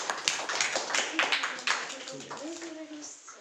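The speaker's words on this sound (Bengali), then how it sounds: "হ্যাঁ হ্যাঁ, হাততালি" A group of children at a prize-giving for study achievers clap their hands in a brisk burst of overlapping claps that fades out, and voices are heard over the end of it.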